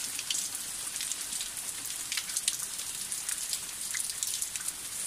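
Steady rain patters on surfaces during bad weather, a dense, even hiss of countless drops with occasional brighter splashes and no voices.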